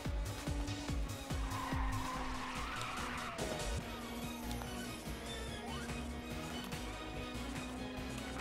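A race car in the 2006 game Ridge Racer 2 roars at high revs with squealing tires and skidding through a drift, loud and continuous, the engine note climbing and holding steady.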